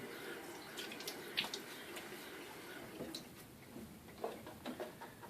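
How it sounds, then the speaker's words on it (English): Water splashes onto a face during a wet shave, faint intermittent drips and small splashes at close range, quiet and scattered over a few seconds. "Alright, water on my face once more."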